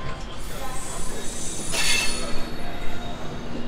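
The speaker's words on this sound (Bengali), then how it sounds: "আর আমাদের ট্রেন এখন মুরাদাবাদ ঢুকছে।" A train pulls into Moradabad station with a low rolling rumble from inside the coach, and a brief high wheel squeal cuts in midway before the rumble continues on its own.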